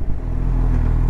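A Honda CB1000R motorcycle comes to a stop after braking, its engine giving a steady, close, low rumble that eases slightly as the bike settles.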